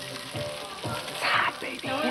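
Onions and garlic sizzle in a hot pan, a steady close frying hiss with a few stirring scrapes and soft clatters.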